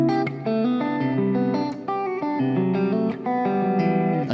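A fingerstyle guitar backing track plays alone, with plucked notes and chords in a steady rhythm and sharp percussive accents, clear and close.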